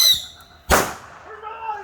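Bottle rocket firework going off during a Fourth of July firework fight, a sharp loud crack in mid-clip, then a thin rising whistle trailing after it, with faint squeals around it.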